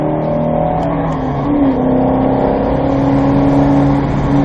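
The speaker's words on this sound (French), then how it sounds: "Et là, on peut accélérer plus fort." A Mustang GT500 engine revs up hard, its deep roar climbing steadily in pitch and staying loud and close throughout.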